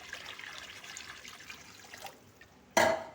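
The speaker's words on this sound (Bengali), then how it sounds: "জল দিয়ে দিচ্ছি" Water is poured into a pan for egg curry, starting as a soft, steady trickling stream and ending in a brief, louder splash.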